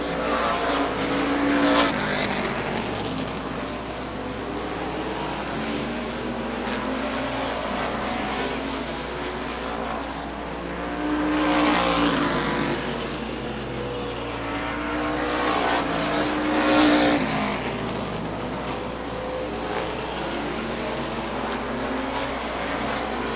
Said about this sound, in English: NASCAR late model division. As they go out and warm up the racing tires.